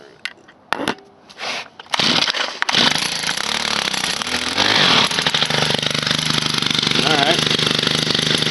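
An Echo SRM 266 string trimmer's small two-stroke engine sputters into life after a few short bursts, then screams at a steady full-throttle buzz that stays loud and close, with a voice heard briefly.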